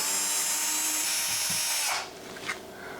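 A power drill runs steadily, backing out ceiling mounting screws during a ceiling fan install, a loud continuous whir that cuts off abruptly near the end, followed by a brief clatter and room noise.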